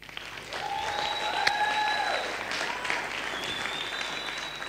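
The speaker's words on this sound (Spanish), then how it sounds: "así que les vamos a mandar un fuerte aplauso" Audience applause fills a stage event, steady and sustained clapping from a crowd, with faint whistles or cheers rising above it.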